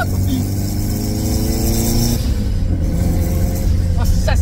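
Turbocharged Honda Civic accelerating from inside the cabin, the engine note climbing steadily then shifting and pulling again, loud and close with a constant road roar and a voice talking over it.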